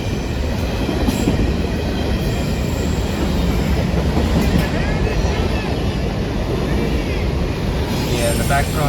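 A freight train led by Union Pacific 1988, the Katy heritage locomotive, rumbles loudly close by, a constant heavy roar of wheels and rail noise with faint squealing, and voices are barely heard beneath it.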